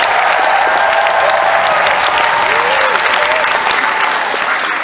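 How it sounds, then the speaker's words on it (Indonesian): Loud, sustained audience applause at an orchestra concert, a dense steady wash of clapping from a large crowd filling the whole stretch without pause. "Dan juga tepukan yang paling hebat untuk Profesor Matia Hanizah."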